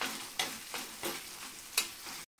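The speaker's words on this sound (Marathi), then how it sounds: "आणि हे छान मऊ होईपर्यंत आपल्याला परतून घ्यायचंय." Tomato and onion with salt sauté in a pan for a mutton tawa fry, a continuous soft sizzle broken by several rhythmic scraping stirs, ending abruptly, with no voices.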